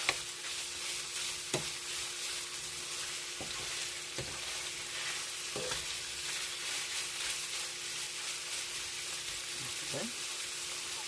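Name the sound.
pork frying in a pan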